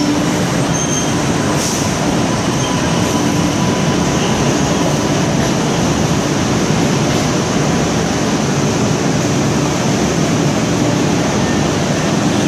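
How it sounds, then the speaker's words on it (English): An MBTA Riverside subway train approaching, a loud steady rumble of rolling wheels and car noise with faint squeals, filling the platform continuously and close by. "a Riverside train is approaching."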